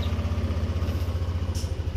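Motorcycle engine idling after starting, a steady low rhythmic chug close by with a brief higher hiss partway through.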